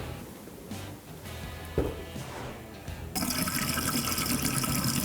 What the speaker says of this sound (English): Almost, just turning the water on right now.